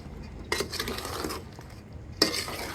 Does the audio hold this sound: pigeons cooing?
no